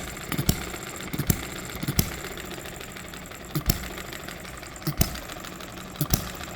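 An old hit and miss engine runs with irregular, sharp firing thumps spaced about a second apart, each followed by a soft mechanical clatter and whir as it coasts, close by and without talk.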